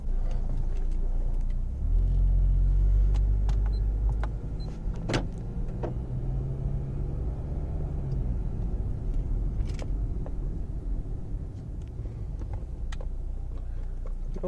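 A 2009 Acura TSX with a vibration fault idles in drive, a steady low rumble that swells for the first few seconds and then holds at an even level, with faint clicks and no speech.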